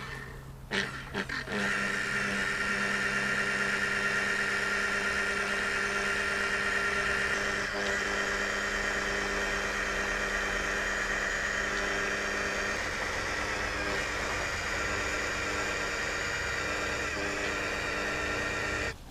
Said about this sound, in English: Then I will take the polishing machine and polish the area.